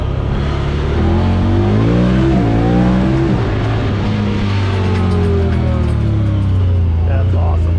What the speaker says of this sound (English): I can't even floor it without spinning the tires.